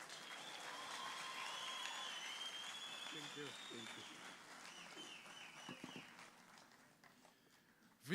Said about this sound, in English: May a round of applause now ring out with glee